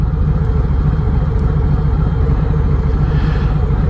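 A 2018 Harley-Davidson Sport Glide engine rumbles loud and close with a steady low throb as the bike accelerates, and no distinct exhaust pops stand out.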